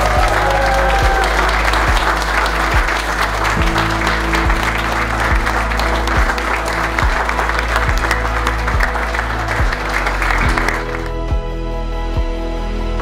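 Wedding guests at a ceremony at Silvermere Inn on the Lake break into loud, sustained applause and clapping just after the couple are pronounced husband and wife, with music starting underneath and the clapping fading out toward the end.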